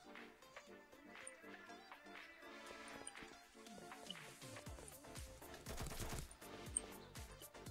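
Gunfire in the Roblox game Mad City, with rapid bursts of shots building toward the end over a layer of game music and effects.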